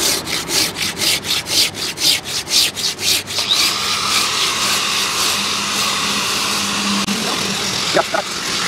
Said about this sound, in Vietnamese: Máy à? Không, cưa tay thôi.